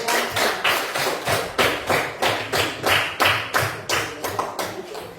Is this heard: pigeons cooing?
no